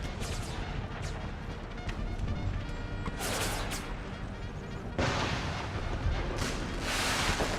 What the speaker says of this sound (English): Canister shot, get ready to fire. Guys, fire.